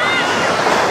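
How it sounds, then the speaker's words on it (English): Ocean surf rolls in at Kovalam beach, a Blue Flag beach on the East Coast Road near Chennai, as a steady, loud wash of breaking waves mixed with wind buffeting the microphone, continuous through the short stretch. "the waves are not too much and they're not dangerous looking as well."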